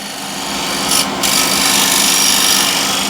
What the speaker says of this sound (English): So now without too much effort I'm using the scraper.